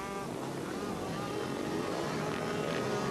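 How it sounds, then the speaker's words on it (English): Solo racing motorcycles droning down a track straight at a 2004 race meeting, a steady dense engine roar from several bikes blending into one continuous, fairly distant wash. "that constant drone of bikes going down the straight"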